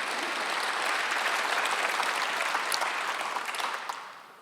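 Church congregation applauding during a Sunday worship service, with a continuous wash of many hands clapping at steady volume that fades slightly toward the end.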